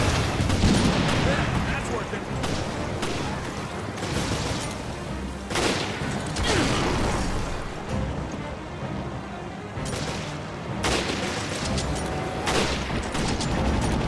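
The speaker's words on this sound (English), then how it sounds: "Rocket launcher, let's go." Rapid, heavy blasts of weapon fire in Resident Evil: Revelations, with a rocket launcher firing amid a dense, continuous barrage of loud explosions and gunfire over about fourteen seconds.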